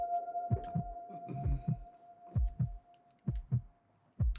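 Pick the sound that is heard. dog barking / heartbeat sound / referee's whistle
heartbeat sound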